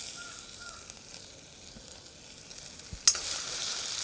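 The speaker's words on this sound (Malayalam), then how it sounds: "അതിനകത്തേക്ക് ഇഞ്ചി ആഡ് ചെയ്ത് കൊടുക്കാം" Ginger dropped into hot oil for tapioca bonda gives a faint, steady sizzle, then a sharp clatter near the end as it hits the pan and the frying grows brighter and louder.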